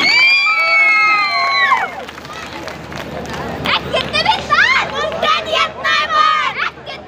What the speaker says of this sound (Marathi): जोरदार टाळी वाजवायची.